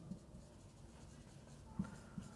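Writing on a board during a maths class: soft, faint scratching strokes with a few light taps, quiet and close, no speech.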